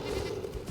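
A goat in a video game gives a single short, faint bleat, wavering and nasal, lasting under a second with no talk over it.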